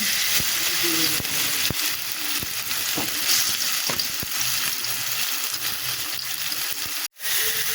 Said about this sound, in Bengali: এবার মাংসগুলো তেলের ভিতরে দিয়ে দিব